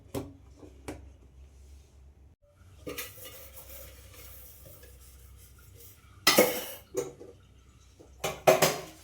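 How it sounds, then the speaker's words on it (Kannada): Dishes, pots and pans being washed by hand, with quiet clinks and scrapes followed by louder bursts of clattering and splashing near the end, with no talk. "ಈಗ ಪಾತ್ರೆ ತೊಳ್ಕೊಂಡ್ಬಿಡ್ತೀನಿ"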